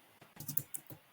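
Quick bursts of keystrokes on a computer keyboard as a feedback message is typed into a form, close and fairly quiet, in short irregular clusters with no talking.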